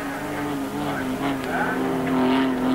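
Touring race cars, including a Rally Art Mitsubishi Starion, competing in a 1985 Australian Touring Car Championship round. A droning engine note holds steady and rises slightly, with a commentator talking over it.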